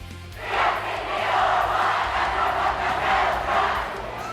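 High school student cheering sections roaring at a winter basketball fan event, a dense, continuous crowd yell that swells and holds loudly for several seconds.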